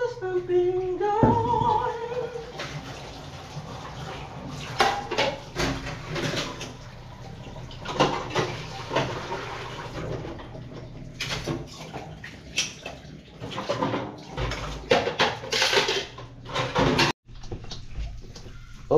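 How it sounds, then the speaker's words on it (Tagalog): Running water splashes and patters with clinking dishes and clattering utensils, continuous and close, with occasional brief knocks. "Tapos na ako maghugas ng pinggan."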